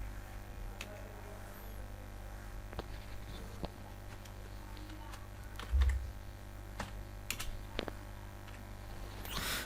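Light, scattered keystrokes on a computer keyboard while entering a task label in a WordPress exercise, fairly soft and close over a steady electrical hum.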